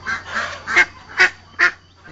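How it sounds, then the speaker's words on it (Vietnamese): A duck being caught gives a series of loud, close, raspy quacks, three distinct harsh calls spaced about half a second apart after a longer opening squawk. "Bắt được trộm con vịt rồi"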